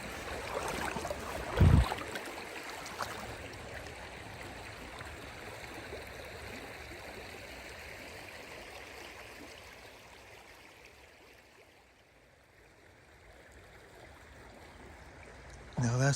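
Creek water flowing steadily in a cold outdoor setting, a constant soft rushing wash heard at a distance, with a brief knock near the start and the stream fading slightly before swelling again.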